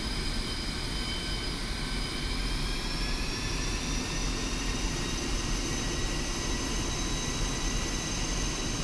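Su-25 jet taxiing in the DCS World flight game, a loud constant engine roar with a high whining tone that slowly rises, continuous and close with no voices.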